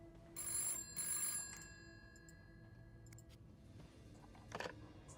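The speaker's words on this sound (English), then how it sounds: "the phone's ringing" A hotel room telephone rings twice in quick electronic trills, faint and close, followed by low room tone and a small click in a video game scene.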